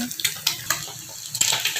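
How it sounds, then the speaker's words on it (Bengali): Green chillies fry in a hot pan, a continuous sizzle overlaid with repeated scraping stir strokes from a spatula at an uneven rhythm. "কাঁচা মরিচ ভাজি করতেছে ভাজা হইলে ডিম দিয়ে দিবে এই ভাজা চলতেছে"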